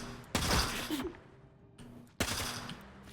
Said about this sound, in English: if we go full auto, we can kind of shoot in 3-round bursts.